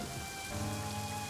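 A Lee Sin skin in League of Legends gives off a dense, steady hiss of falling rain with a low rumble beneath it, filling the brief moment evenly.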